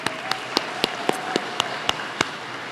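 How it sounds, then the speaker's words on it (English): A handful of scattered, evenly spaced claps ring out at a school district celebration event, sparse and fairly distinct rather than a full crowd ovation. "So give yourselves a round of applause for even being here."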